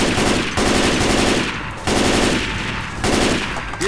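Sustained automatic gunfire from a weapon in the video game Left 4 Dead 2, loud, dense rapid bursts with the trigger held down, broken by short gaps, with no talk over it.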